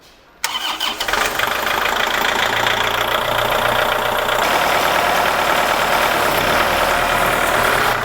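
An HP20T4 hydraulic pump machine starts up after a moment of quiet, then settles into a loud, steady mid-pitched engine drone that runs continuously and close by, with no speech over it.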